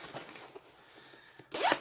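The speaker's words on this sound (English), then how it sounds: "there's a zipper here" A zipper on a tech-friendly bag's power bank compartment is pulled open or closed in a short close-up rasp, a few soft rustles leading into a brighter final zip.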